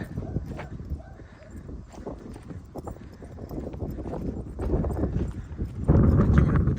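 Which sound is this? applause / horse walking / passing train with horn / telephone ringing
horse walking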